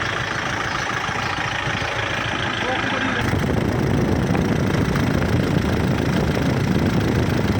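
A Kubota 47-horsepower tractor engine runs at a steady idle, a loud continuous rumble that thickens and grows slightly rougher about three seconds in.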